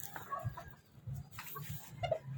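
A laying hen sitting on ten eggs clucks in short, uneven bursts at close range, with a few sharper calls near the end.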